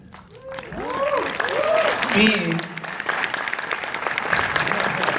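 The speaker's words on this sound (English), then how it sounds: "Let's have another round of applause for Donnie Yen." An audience claps and cheers for Donnie Yen at a live appearance, dense applause swelling and holding steady while someone talks loudly over the start.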